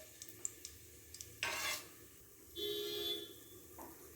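Bay leaves, cinnamon, cloves and cardamom dropped into hot oil for channa kurma, a few light taps followed by two short bursts of quiet sizzling with soft stirring, fairly faint overall.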